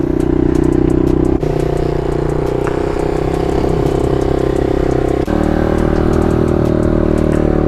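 A motorcycle engine idles steadily while warming up on a bike with a newly fitted swing arm, a loud, close, continuous low rumble with slight clattery texture and two brief dips in the drone.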